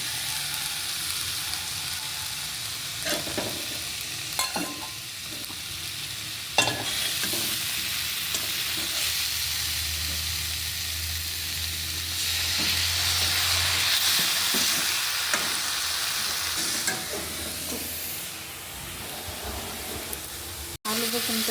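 Potatoes and eggplant fry in a pan for a hilsa fish dish, a continuous hiss and sizzle with scraping stirs throughout, growing louder midway, close by, with faint talk at times.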